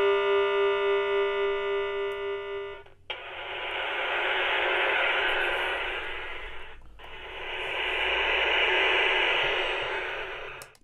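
Buzzy square-wave chip tones from a ZX Spectrum AY sound chip loaded off a demo tape warble for a few seconds, then give way to two long swelling bursts of harsh hiss, fairly quiet overall.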